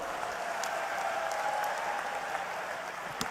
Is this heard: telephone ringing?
no